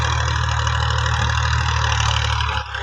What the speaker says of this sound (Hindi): ये ट्रैक्टर आ गया